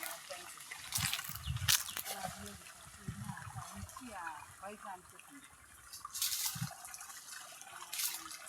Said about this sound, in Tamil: இதோ இப்போ இந்த மரத்துக்கு போய் பாய போகுது தண்ணி